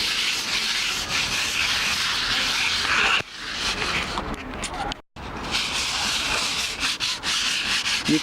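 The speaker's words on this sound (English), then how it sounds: "we're gonna get that 100 grit sandpaper. We're gonna fold it like so, and we're gonna sand it in a circular motion." Folded 100-grit sandpaper rubs across a wooden skateboard deck in circular strokes, a steady close scratchy hiss that runs nearly continuously with a brief pause partway through.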